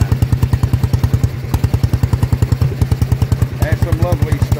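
A vintage stationary engine at a rally drives a centrifugal pump, thumping in a fast, even rhythm of loud close exhaust beats, with brief faint voices toward the end.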